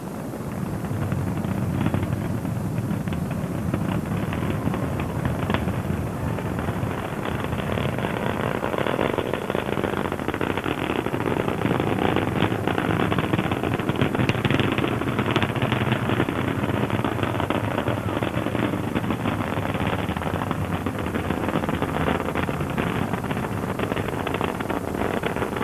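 Space Shuttle Discovery's three main engines during the STS-29 launch, heard as a loud, continuous, broadband roar that holds steady without pause.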